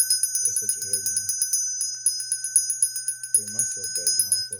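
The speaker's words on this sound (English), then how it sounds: "Gotta ring the bell on that one." A small bell is rung rapidly and continuously during a tarot reading, with bright shimmering tones pulsing close to the microphone while a voice speaks briefly at the start and again toward the end.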